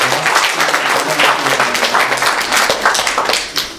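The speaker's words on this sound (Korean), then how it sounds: "다 같이 박수로 축하해 주시겠습니다." A church congregation at Sunday worship applauds steadily for members' birthdays, with dense, sustained clapping from many people filling the room for several seconds and fading slightly at the end.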